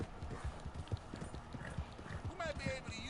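Horse hooves clip-clop at a steady walking rhythm in Red Dead Redemption 2, close and distinct, with a short whinny-like tone near the end and a voice speaking over it.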